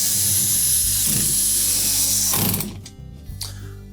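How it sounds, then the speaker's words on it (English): A ratcheting tool drives screws back into a Whirlpool dishwasher during a vent replacement, giving a close, rapid mechanical clicking whir that stops abruptly partway through, leaving a few quieter clicks. "And then we'll just replace the remaining screws."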